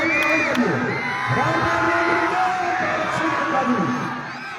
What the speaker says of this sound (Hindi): चारों तरफ से दर्शकों की आवाज आ रही है बीच मैदान पर।